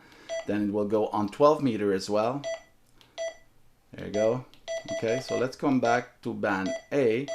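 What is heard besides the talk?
button beep of President Lincoln II 10/12 metre mobile radio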